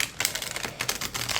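A stiff, thick tarot card deck is shuffled in a quick flurry of crisp card flicks and riffles. The snappy bursts come close up and fairly loud, with no talking.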